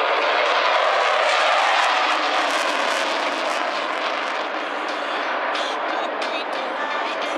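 RAF Eurofighter Typhoon jet at the Clacton 2016 air show, flying with full reheat on, gives a loud, continuous broadband roar that sustains throughout with slight fluctuations, heard at a distance from the ground.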